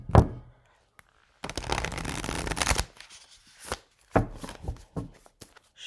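Large tarot cards are shuffled by hand in bursts: a short riffle, a long continuous ruffling stretch, then several quicker flicks and taps, close and alone.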